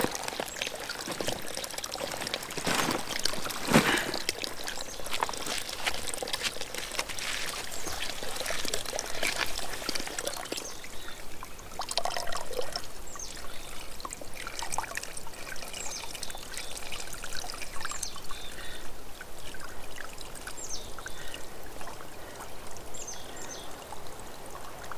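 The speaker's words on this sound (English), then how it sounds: "I'm gonna stop at Toolbox Springs and refill my water bottle." Cold spring water from Toolbox Springs on the Ramona Trail pours into a water bottle with a steady, quiet trickling stream that runs continuously, close by and undisturbed by speech.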